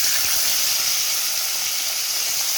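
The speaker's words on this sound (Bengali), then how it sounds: "তেলটা গরম হয়ে গেছে, এবার মাছগুলো দিয়ে দিব।" Laylon tikka fish fried in hot oil in a pan, a loud, steady bright sizzle and hiss throughout with faint crackles underneath.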